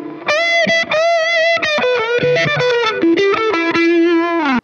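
Heavily distorted electric guitar through an Eventide H9 effects unit plays a string of chords and single notes, loud and continuous, with a gritty, saturated tone and short gaps between phrases.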